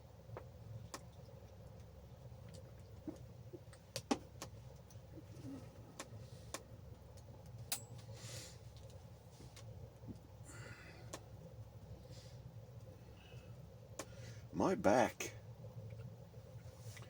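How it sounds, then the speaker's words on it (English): Faint, distant road traffic rumbles steadily, with occasional soft clicks and a pigeon cooing briefly near the end. "I can hear the traffic on the road."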